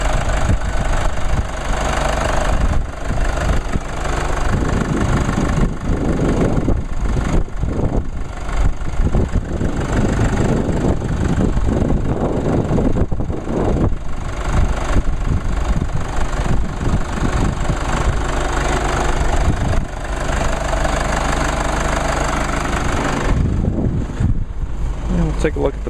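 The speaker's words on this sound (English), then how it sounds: "Yeah, runs pretty good. That's pretty quiet for a diesel." A 2014 Mercedes-Benz GLK 250 diesel idles with a steady, even clatter and hum that runs the whole time, close and loud, with people talking over it now and then.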